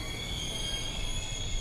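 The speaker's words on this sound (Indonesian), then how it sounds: "Sekarang kita masuk ke rangkaian kereta." Inside an Argo Dwipangga executive passenger train, a steady rolling rumble of the running carriage fills the space with faint high tones above it, quiet and continuous with no talk.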